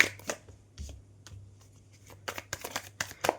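Tarot cards shuffled by hand close up, giving quick crisp riffling bursts and taps that come in irregular clusters, growing busier toward the end.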